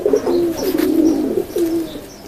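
A pigeon coos nearby in soft, low, repeated warbling phrases, with faint chirps in the background.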